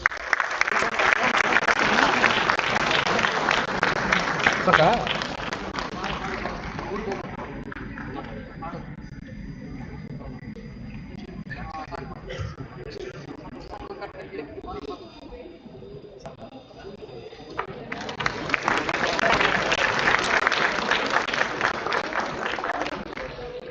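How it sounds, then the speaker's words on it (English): Audience applause at an IEEE conference welcome, loud clapping for several seconds that fades to quieter room sound before a second strong round of clapping swells near the end. "Big round of applause."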